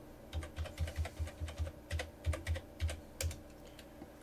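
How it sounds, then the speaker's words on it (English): Typing on a computer keyboard at a command prompt, entering a Telnet command with a gateway IP address: a quick run of about a dozen distinct key taps in an uneven rhythm, close and clear with no talking. "type Telnet, and the IP address of your default gateway."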